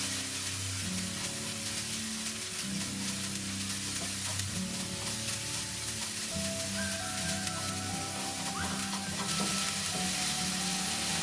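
Four garlic cloves fry in a pan over a low flame while white sauce pasta is being made, giving a steady, even sizzle that continues throughout with no talking.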